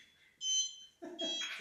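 Electronic beep from a Cubroid coding block sound module paired with a DC motor, two short bright tonal beeps, fairly close and clear, with faint motor or handling noise around them.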